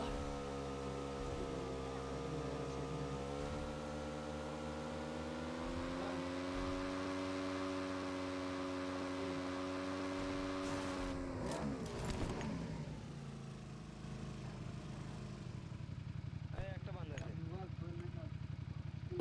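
A motorbike engine drones steadily in the PUBG Mobile game, a sustained harmonic hum that shifts pitch as the bike rides on, then cuts out near the end, giving way to scattered faint game noises.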